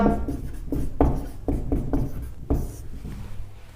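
Marker or chalk scratching across a classroom board, a string of short, quick strokes in an uneven rhythm, heard close and clear with no talk.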